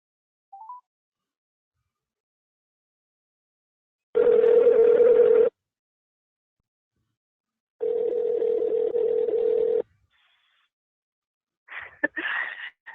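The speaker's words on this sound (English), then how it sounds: "Sounds like the call dropped out." A telephone dial tone after a dropped call, heard as two steady multi-second tone bursts separated by silence, followed by a short garbled burst of line noise.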